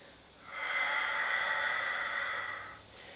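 A single long, steady exhale during a Pilates exercise, rising smoothly, holding as an airy hiss for about two seconds, then fading. It is close and fairly loud, with no talking.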